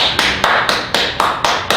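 An audience claps in unison at a steady, even beat, with about seven crisp, loud claps spaced evenly apart and no voices over them.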